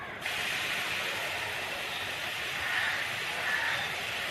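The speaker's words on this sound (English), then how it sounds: "Give spray bath in this way to your plants." Water sprayed from a spray bottle onto Aglaonema houseplants, a steady close hiss running throughout, with slight swells in intensity toward the end.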